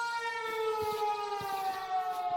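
Siren Head's siren wails through a Minecraft forest as one long, steady, slightly falling tone, loud and sustained with no voices over it.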